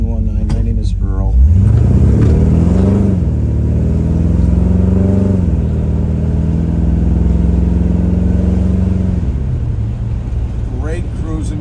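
A 1955 Chevrolet Bel Air running on the road, its engine droning steadily and rising in pitch as it accelerates, settling into a smooth cruise hum, with a voice briefly heard at the start.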